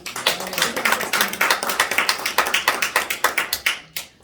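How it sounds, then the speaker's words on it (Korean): A church congregation at a revival service claps in a rhythmic, fairly steady beat of distinct slaps close by, fading toward the end. "여러분들 서로 각자에게 박수 드리겠습니다."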